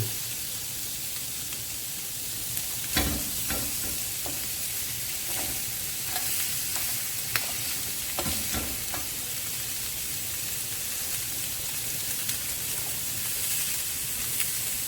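Lamb chops marinated in rosemary and garlic sizzle steadily in a hot griddle pan, a constant close hiss with occasional pops and clicks as pieces are laid down.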